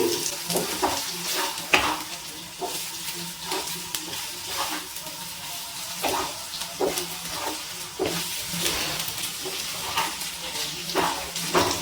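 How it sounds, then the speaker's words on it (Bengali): Fried cauliflower being stirred with masala in a pan for cauliflower korma: steady sizzling and hissing, broken by repeated scraping stir strokes at an irregular rhythm, close up, with no talking. "ভাজা ফুলকপিগুলো দিয়ে হালকা হাতে মশলার সাথে একটু মিশিয়ে নিচ্ছি।"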